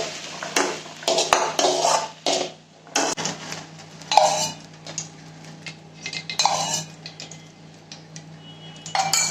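Sautéed capsicum is scooped from a pan onto a plate with a run of metal clinks, scrapes and taps from utensils and dishware, close and intermittent, with a faint background hum.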